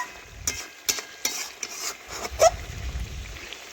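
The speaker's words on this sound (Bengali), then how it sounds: "এইভাবে নাড়াচাড়া করে নিলাম।" A spoon stirs chicken curry with new potatoes in a pan, giving a few separate scraping strokes over a soft, steady sizzle, with no talking.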